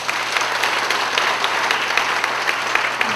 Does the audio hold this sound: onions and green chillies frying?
no